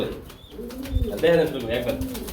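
Running pigeons at a pigeon market give soft, low cooing calls with a brief flutter, close by, amid market background noise.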